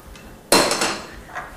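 A pan with sugar-coated nuts set down after coming off the heat, one sharp metallic clank followed by a short ringing decay and a fainter knock, close and alone.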